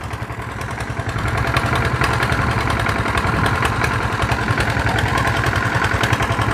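A tractor engine chugs and idles steadily nearby, its low rhythmic throb loud and constant, with a rattling clatter over the top.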